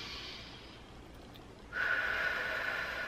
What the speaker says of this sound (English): We'll literally inhale.